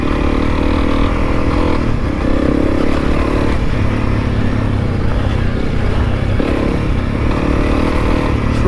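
Honda CRF300L motorcycle riding a dusty dirt trail, its engine droning steadily and loud throughout with continuous rumble, wind buffeting and occasional rev changes as the bike moves over rough ground.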